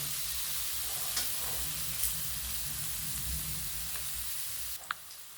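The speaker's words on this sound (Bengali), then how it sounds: "রসুন বাটা দিলাম এক চামচ দিয়ে আমি এটাকে একটু ভেজে নেব" Garlic paste sizzles steadily in hot oil in a pan, a dense continuous frying hiss with a few faint clicks of stirring, close and alone without talk.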